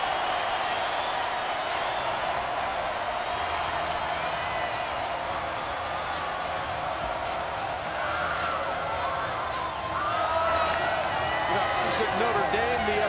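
A packed college basketball arena crowd at a Syracuse Orange versus Pitt Panthers game roars loudly and steadily, a dense wash of cheering that swells near the end, with sneaker squeaks and an announcer talking over it.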